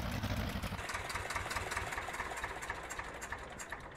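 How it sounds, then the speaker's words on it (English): Old tractor engine idling in the Farm Sim video game, a steady low, mid-loud rumble with a rapid even pulse running unbroken throughout, no talk. "That's a pretty neat old tractor."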